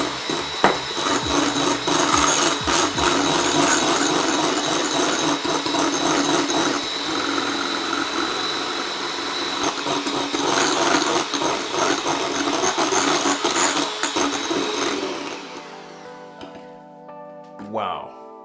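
An electric mixer whirs loudly and continuously as icing sugar is whisked into an aquafaba mixture, then switches off near the end, with someone talking over it.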